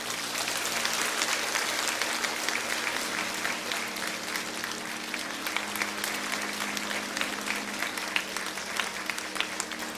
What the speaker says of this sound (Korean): 우리 크게 축복하고 격려하는 박수 보내주시면 감사하겠습니다.